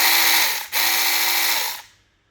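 A small cordless battery-powered chainsaw runs in a loud, high-pitched whine up close, dips briefly for a moment, then revs on and winds down to silence at the end.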